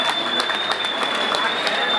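Guests at a wedding clap together in a dense, steady burst of applause, loud and close, with a voice over it.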